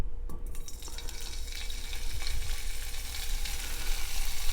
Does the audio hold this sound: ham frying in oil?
yes